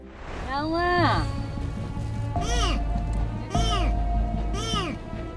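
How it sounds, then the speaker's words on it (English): A small kitten trapped at the bottom of a 5-meter vertical pipe cries out in a series of high, drawn-out meows, four or five calls in a row, sounding hollow and echoing over a low background rumble. "That's a cry of a little kitten that fell to the bottom of a 5-meter vertical pipe"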